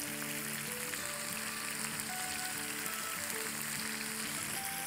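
Pieces of tandoori-style chicken tikka sizzle steadily in a pan over medium-high heat, giving a faint, continuous frying hiss with no talking.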